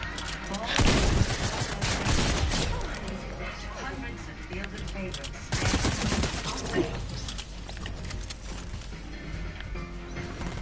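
Rapid bursts of video game gunfire crackle through a dense mix, with a loud volley near the one-second mark and another around five and a half seconds, while a voice talks underneath.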